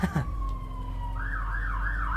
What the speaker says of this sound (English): That's a real life siren now